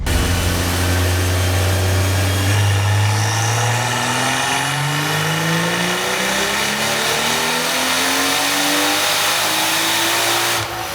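A BMW B58 engine turned up to 28 PSI of boost revs hard on a dyno, its loud, steady tone climbing continuously in pitch for about ten seconds with a strong drone throughout and no voices.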